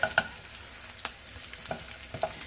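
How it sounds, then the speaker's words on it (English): Onions and bacon frying in a pan sizzle close up with a steady hiss and a few sharp crackling pops, with no talk. "I'm just going to let these onions cook a little bit through before I add the tomato."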